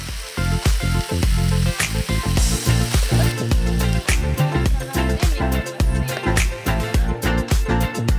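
Eggplant stir-fried with salted fish in a pan, loud and close, with rapid repeated clangs and scrapes of a spatula over a constant hiss of frying.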